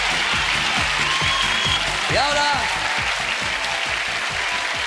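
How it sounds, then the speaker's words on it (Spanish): A studio audience at a 1990s Spanish summer game show gives a sustained ovation, loud continuous clapping and cheering, with a voice speaking over it. "Pero antes la ovación para todos."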